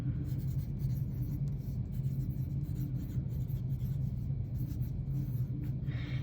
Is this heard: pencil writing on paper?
yes